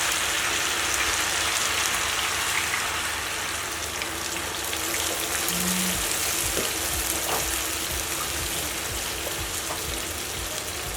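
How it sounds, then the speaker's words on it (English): Water is poured into a pot of browning curry chicken, giving a continuous rushing hiss and sizzle that stays steady and fairly loud from start to finish, with no talking. "So what we're going to do is go ahead and add the water."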